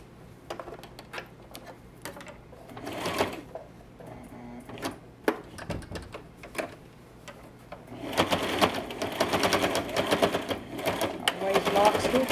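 A sewing machine stitches fabric for a bowl cozy, first in short, separate bursts with pauses and clicks, then running steadily and louder near the end, heard up close.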